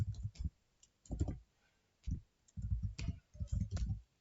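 A computer mouse clicks while an online passport application form is filled in, with close, sharp clicks coming in small clusters separated by short pauses.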